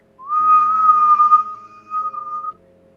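A person whistles a wavering tone, imitating a whistling sound, clear and close with no talking.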